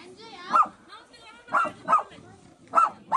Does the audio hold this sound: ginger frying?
no